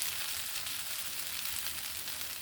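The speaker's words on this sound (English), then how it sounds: "Don't y'all love that frying sound?" Spam sizzles in a frying pan with a soft, steady crackle and hiss, faint and continuous with no talking.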